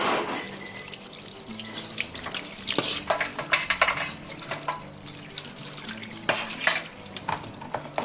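Tap water runs steadily while a crab is rinsed at a sink after its gills are removed, with splashing and occasional clinks of utensils, close and moderately loud.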